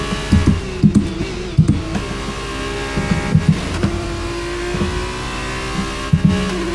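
Formula car engine in the F1 23 racing game at Jeddah, revving up through the gears out of a hairpin, loud and alone, with rising whines broken by sharp upshift cuts.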